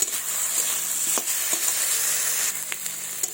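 A ground paste of dried red chilli, ginger and cumin fries in a pan with a steady close sizzle, broken by a few soft scrapes as it is stirred.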